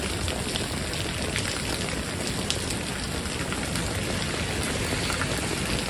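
Heavy rain pouring down in New York City during flash flooding, a dense continuous roar of falling water and splashing, steady and close with no talk.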